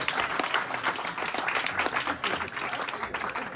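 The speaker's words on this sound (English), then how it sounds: "Clap for yourself." Audience at a live jazz club set claps and cheers, a lively crowd burst of many hands at close range with some whoops, steady over a few seconds.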